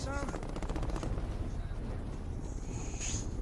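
Gunfire in Call of Duty, a dense, sustained burst of rapid automatic fire that holds at an even loudness for several seconds, with a faint voice beneath it.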